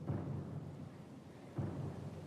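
A thunderstorm rumbles in Pillars of Eternity II, two low, faint rolling swells of thunder over a steady wash of rain.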